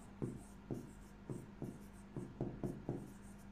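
A pen or chalk strikes a board in about eight sharp, evenly spaced taps with brief scratches between them, close and fairly quiet in a still classroom, with no talking.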